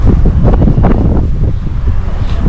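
Strong wind roars and buffets the microphone continuously on a bicycle tour on the road to Isfahan, Iran, a loud, low, blustery rumble with no other sounds standing out.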